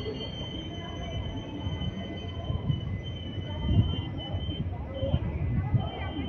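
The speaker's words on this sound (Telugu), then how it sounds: "ప్లాట్ఫామ్ నెంబర్ 1లోకి అయితే తిరుపతి నుండి కాకినాడ వెళ్ళే ఎక్స్ప్రెస్ ట్రైన్ అయితే వచ్చింది" An express train from Tirupati to Kakinada rolling into a station platform, a steady low rumble of wheels on rails with faint squeals and a high whine, moderately loud and continuous.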